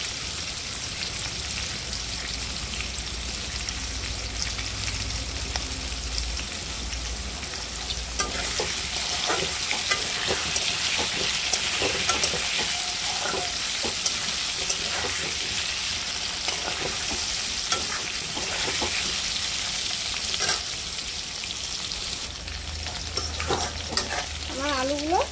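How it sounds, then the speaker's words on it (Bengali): Potato pieces fry in hot oil with salt and turmeric, a loud, continuous close sizzle with stirring scrapes and small crackling bursts throughout, the bubbling intensifying after the first few seconds. "আলুগুলোকে লাল লাল করে নুন হলুদ দিয়ে ভেজে নেব।"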